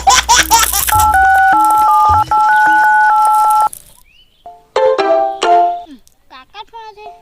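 Mobile phone keypad tones in a quick run of steady beeps, a few pressed in succession, then a pause and more short electronic tones, with background noise and faint voices.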